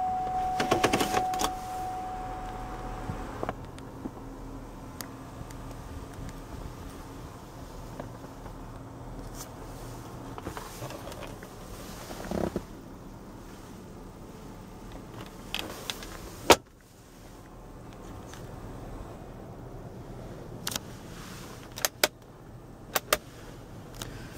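Electric motor whirring as the full power sunroof of a 2007 Buick Allure CXL opens, a low steady hum inside the cabin broken by faint clicks and soft thumps, with no talking.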